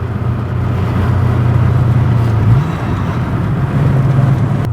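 MG ZT 260 fitted with a factory V8 from a Mustang, pottering along at low speed, gives a steady, deep engine rumble that holds level throughout, with a brief rise in pitch midway.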